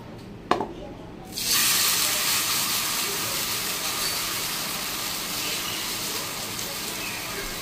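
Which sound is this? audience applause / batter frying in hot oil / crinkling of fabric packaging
batter frying in hot oil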